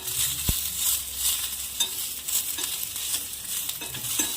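Okra and garlic frying in a hot pan over high heat, a continuous bright sizzle with stirring clatter and a sharp knock near the start, no talking.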